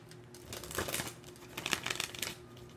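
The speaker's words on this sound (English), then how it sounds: "let me just get to the shuffling part" Tarot and oracle cards being shuffled by hand, crisp papery riffles and crinkling in two close bursts with a short pause between, no talking.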